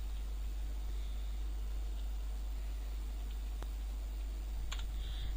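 A few faint, scattered keystrokes on a computer keyboard, typing an SQL command, sit over a steady low electrical hum.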